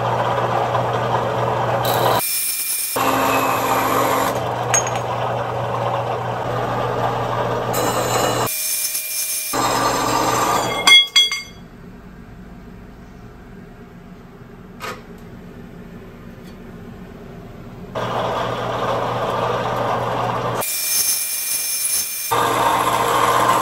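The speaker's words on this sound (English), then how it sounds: "I will be final trimming each piece to the final length here on the milling machine" A milling machine trims metal stock pieces to final length, giving steady, loud mechanical cutting noise in several long runs separated by brief pauses and a quieter stretch midway, with no talking.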